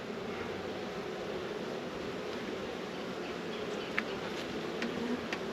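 Honeybees buzz in a steady, dense drone during a hive inspection. The swarm sounds close and fairly loud, with a few faint taps from handling the hive near the end.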